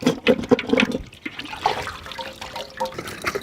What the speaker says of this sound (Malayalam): ഇനി നമുക്കിതിനൊന്ന് കഴുകിയെടുക്കാം